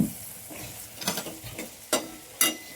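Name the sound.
eggplant frying and stirred in masala gravy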